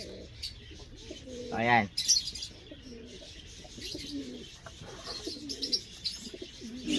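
Breeder pigeons of the Leo Hermans Speedbird line coo softly in a loft, with a brief chirp and occasional wing sounds, while someone speaks a short word nearby.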